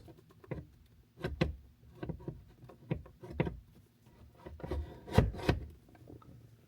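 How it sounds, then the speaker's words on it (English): A Tesla Model Y display is lifted and slid onto a swivel bracket, making quiet, close scraping rubs and a handful of soft knocks spaced irregularly. "Let's lift up the display and slide it onto the swivel bracket."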